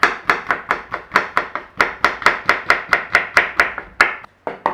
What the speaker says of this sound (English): And we're going to thinly slice this yellow pepper.